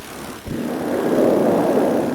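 Heavy wind buffeting a helmet-mounted microphone during a paramotor flight on a gusty day, a loud continuous roar that swells after a brief dip and stays steady, with no voices.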